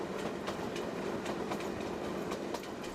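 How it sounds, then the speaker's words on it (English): A train rumbles along the rails with a steady rhythmic clatter of wheels over track joints, heard from on board, descending toward Kigoma, Tanzania, in 1999. "the train descends in altitude on the final stretch to Kigoma"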